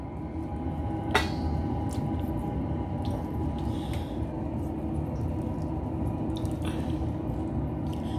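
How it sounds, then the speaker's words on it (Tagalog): Vinegar goes into a pan of simmering chicken adobo with pineapple chunks, giving a steady, close liquid wash and bubbling hiss that runs unbroken throughout, with a couple of faint clinks near the start. "Ito na ilagay yung suka."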